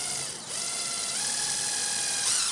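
A power drill whirs steadily as it drives a 1 5/8 inch screw down through the end of a trough on a duck race build, with a continuous close buzzing and faint ratcheting for a couple of seconds.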